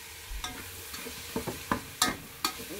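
Liver being stirred into plov in a frying pan, with close, irregular scraping and clacking strokes over a low sizzle. No one speaks.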